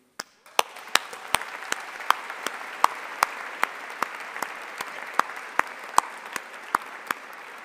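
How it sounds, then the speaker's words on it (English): A small graduation audience at Strathclyde Business School applauds, with steady, moderately close clapping under a bed of softer claps and a few sharp, distinct individual claps standing out at irregular intervals. "I want all of our graduates here today to acknowledge and applaud those who are here with you"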